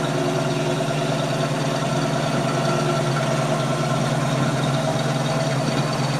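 A 1968 Mercury Cougar engine idles through its stock single exhaust with a steady, low, even rumble, constant and close, with no voices.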